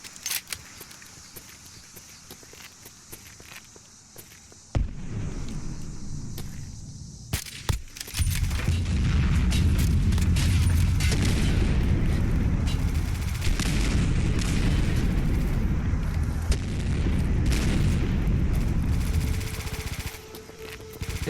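Gunshots striking an enemy in Fallout 4, with sharp reports and heavy booming impacts over a dense, rumbling combat background, along with scattered footsteps.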